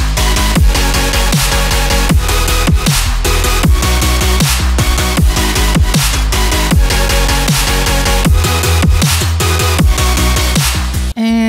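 A gated supersaw future bass synth patch built in Serum plays a loud, dense drop with rhythmic chopped pulses and a heavy low end, running steadily throughout and cutting off abruptly at the end.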